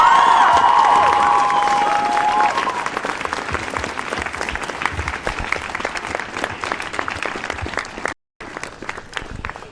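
Applause and cheering from a crowd of students at a school strike rally at Globala gymnasiet, dense and sustained, with a brief gap near the end before the clapping resumes.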